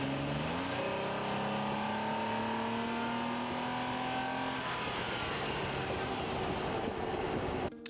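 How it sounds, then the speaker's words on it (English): Engine bay of a third-generation Toyota Tacoma with its stock airbox, captured up close under the hood: a steady, loud engine drone with harmonic tones that climb and settle as it revs, continuous throughout with no talk. "we can get some engine sounds under the hood"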